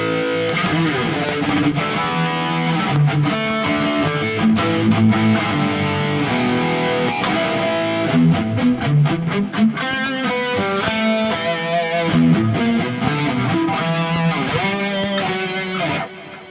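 Distorted electric guitar, a Harley Benton Fusion 3 through the Neural DSP Gojira X amp simulator plugin, plays a busy riff of chords and picked notes, loud and dry, with sharp attacks throughout.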